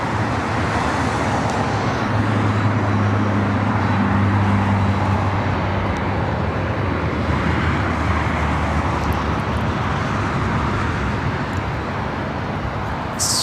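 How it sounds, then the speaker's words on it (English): A Delta Airlines Boeing 767-300ER jet at LAX produces a broad, steady rushing roar that holds at constant loudness for over ten seconds, heard from the ground at a distance. "You're looking at Delta Airlines Flight 1377 heading to JFK,"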